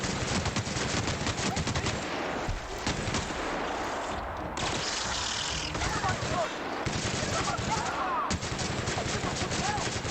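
Gunfire from the video game The Outer Worlds rattles in rapid, repeated bursts of shots, loud and nearly continuous throughout.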